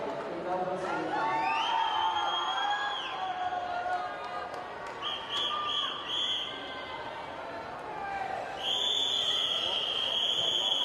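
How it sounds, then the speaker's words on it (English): Crowd cheering at the finals of a Victorian age long course swimming championship, a broad roar of voices and whistles mixed under a commentator's steady talk. "Big cheer from the crowd there."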